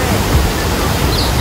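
Tegenungan waterfall in Bali gives a steady, loud, even roar of rushing water that fills the whole stretch without pause.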